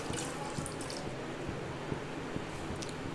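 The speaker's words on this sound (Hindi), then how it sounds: "अब हम इसमें 1 ग्लास पानी डालेंगे" A glass of water is poured into a pot of dal, mutton and spices for dal gosht: a soft, continuous watery rush, faint and steady for a few seconds with no talk.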